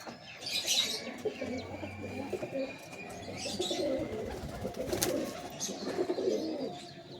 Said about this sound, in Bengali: এই টেল রেজাল্টেড পায়রা, কৃষ্ণগড়ে বুবাইদার রেজাল্টেড পায়রা